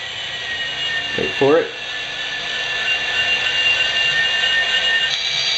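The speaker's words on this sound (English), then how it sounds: "And now it's gonna rev right up." A Digitrax SFX004 Soundbug sound decoder with a fault, fitted in a model train, plays a steady synthetic diesel engine drone that climbs as it revs up, loud and continuous, while a voice briefly speaks near the start.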